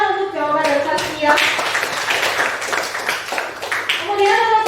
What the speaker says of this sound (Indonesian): Tepuk tangan untuk jawaban dari Saskia.